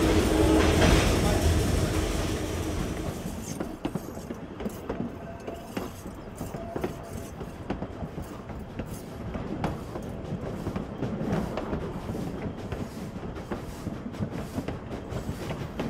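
A passenger train rolls along the rails between Mauá and Raiz da Serra near Petrópolis with steady rumbling and rhythmic clacking, loud and close, with voices faintly talking underneath.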